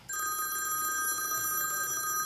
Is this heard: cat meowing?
no